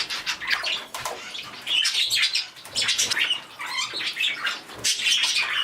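Pet birds in an indoor bird room chirp, squawk and tweet in a busy, overlapping chorus as their cages are uncovered, with occasional wing flutters nearby.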